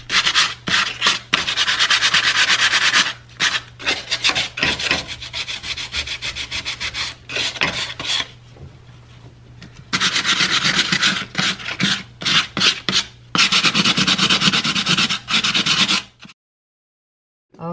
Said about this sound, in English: next I'm going to go ahead and sand it down because I want to make sure before I paint that I have a smooth,